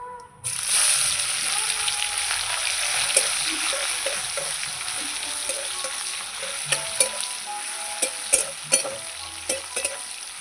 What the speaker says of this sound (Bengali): পেঁয়াজটা দিয়ে দেবো এখানে একটা পেঁয়াজ কুচিয়ে নিয়েছি